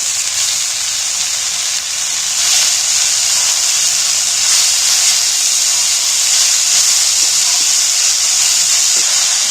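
Loud, steady sizzle of chopped, washed water spinach (kalmi shaak) dropped into a pan of fried onions, a dense hiss filling the whole stretch without letup and no voices.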